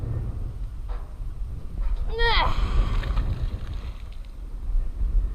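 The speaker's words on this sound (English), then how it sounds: "And there's the wind." Wind blows outdoors by the water during magnet fishing as a storm approaches, making a steady low rumble that buffets the microphone. A brief high chirping sound cuts through partway.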